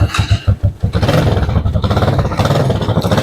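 Keeway Superlight 200 motorcycle running on its stock exhaust with the baffles removed, giving a loud, rough, close engine rumble with pulsing throttle blips at first, then a steady raspy drone.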